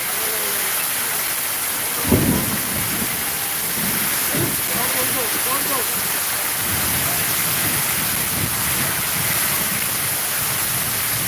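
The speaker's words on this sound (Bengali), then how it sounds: "আর আকাশ চমকাচ্ছে, বাজ পড়ছে অনেক বেশি।" Heavy rain pouring at night in Sylhet after a spell of heat, a constant dense roar with a sharp crack of thunder early on and low rumbles after it, with someone talking under the downpour.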